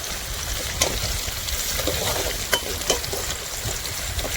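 Fennel seeds sauté in hot oil for a Kerala Wayanad-style duck gravy, a dense, loud crackling sizzle with a few sharp spatula taps, nearby and without speech.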